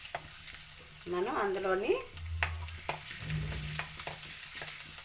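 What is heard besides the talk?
garlic and ginger frying in hot oil in a pan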